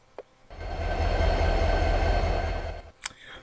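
A diesel train in Train Simulator 2017 rumbles along at a steady, loud, low roar for about two and a half seconds, bracketed by brief clicks before and after.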